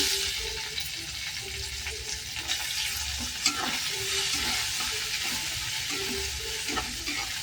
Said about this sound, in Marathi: असं कांदा भाजून घ्यायचा. त्यामध्ये